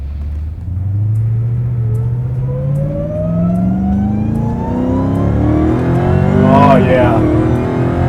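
A 1000-horsepower Dodge Hellcat engine roars up through the revs in a long, loud pull, its pitch climbing steadily before a quick shift, heard from inside the car as someone speaks briefly.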